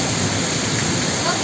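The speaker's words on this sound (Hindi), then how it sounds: "आज हुई बारिश से पद्र क्षेत्र के किसानों को जहां गर्मी से राहत मिली, वहीं यह बारिश फसल के लिए अच्छी बताई जा रही है।" Heavy rain pouring steadily in Mandi district of Himachal Pradesh, a loud, dense, continuous hiss with no breaks.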